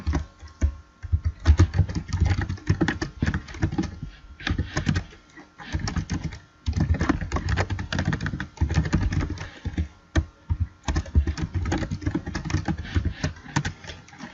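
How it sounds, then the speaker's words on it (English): Rapid typing on a computer keyboard while writing Python code, with dense, irregular bursts of key clicks running close and clear throughout, broken only by brief pauses, with no speech. "I'm typing this as I go."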